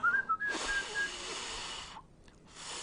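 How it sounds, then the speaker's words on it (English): A person's strained attempt at whistling, a few thin wavering tones at the start followed by long breathy blowing of air, close and alone. "That is me trying to whistle, guys."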